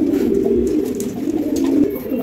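Caged pigeons, newly paired, coo in a loud, close, continuous rolling murmur with no voices.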